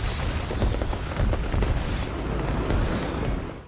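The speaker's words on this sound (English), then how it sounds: "One gorgeous explosion later" A building packed with fireworks explodes into a loud, sustained roar of rumbling and crackling that holds steady for several seconds before quickly fading out.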